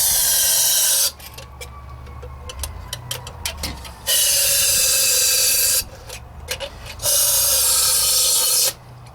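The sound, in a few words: spraying brake parts cleaner into Ford 351 Windsor engine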